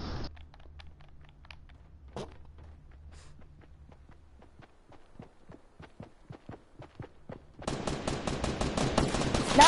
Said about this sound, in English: Start shooting back at the enemies.